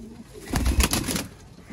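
Sialkoti rooftop pigeons for sale give a soft, close cooing call, a short rolling burst of throaty coos rising and fading within a second over quiet background.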